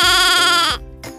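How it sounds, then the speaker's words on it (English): A sheep bleats loudly and up close in a single drawn-out wavering call, followed by a brief fainter second bleat. "Hello, Mrs. Sheep."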